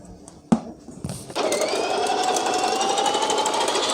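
A Sonifer electric salad maker is switched on after a few clicks and then whirs loud and steady while it slices cucumber, with a rising motor whine and no talking.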